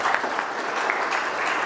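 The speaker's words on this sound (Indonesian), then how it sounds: "Aplaus untuk mereka." A crowd at a business presentation event claps steadily in dense, even applause that fills the short moment without pause.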